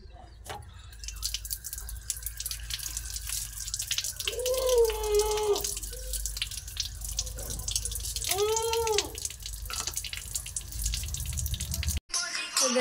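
Tap water runs and drips while a face is washed, a steady splashing close by with some voices over it, then a sudden cut near the end.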